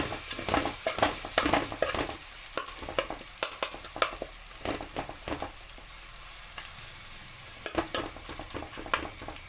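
Kerala chicken curry masala fries and splutters in a pan, a continuous close sizzle broken by repeated sharp scraping and clattering stirs, with no talking.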